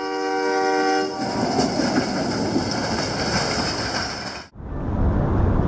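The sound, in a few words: train with snowplow mounted on a locomotive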